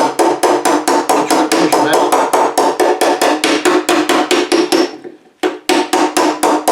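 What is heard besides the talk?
hammering rusty fender of a 1963 C10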